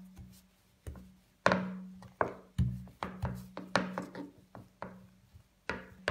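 Dough for a sweet raisin-filled breakfast bread is rolled into a long strip with a rolling pin on a board. Close, repeated wooden knocks and thumps land at an irregular rhythm, each with a short rolling rumble.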